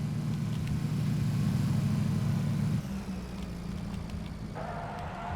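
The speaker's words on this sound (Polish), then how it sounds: "Słyszę auto? Ja, auto jedzie, Mike." A car engine in PUBG, heard as a steady low rumble that drops and shifts partway through as the vehicle nears, moderately faint with no voices over it.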